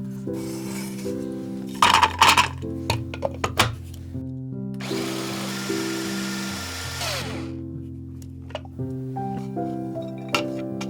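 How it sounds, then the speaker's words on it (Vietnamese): Electric blender whirring as it grinds three or four chopped garlic cloves, a motor hum that rises into a dense, loud grinding burst midway, then drops back to a steadier running tone. "Tỏi thì mình dùng 3 đến 4 tép, cắt nhỏ và mình cho vào máy xay nhuyễn nè."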